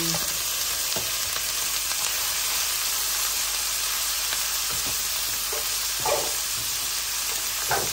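String beans sauté with other vegetables in a hot pan for a squash and coconut milk dish, giving a dense, continuous sizzle with occasional stirring scrapes and clinks close by.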